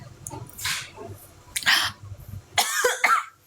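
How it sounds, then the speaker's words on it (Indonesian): A person coughs in harsh bursts after choking on something, with three loud close coughs spread across a few seconds and throat clearing between them. "Batuk lagi kesedek."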